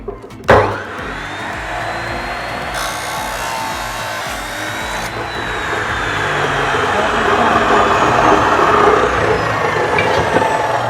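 A power saw cuts a steel angle bar at a 45-degree angle while metal window frames are being built. A sharp start leads into a loud, steady whine that lasts about ten seconds and grows slightly stronger toward the end.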